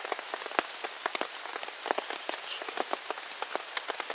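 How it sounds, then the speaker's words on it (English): Rain patters on a taut tent close by, irregular drops tapping and splatting over a soft steady hiss. "Boy, is it raining."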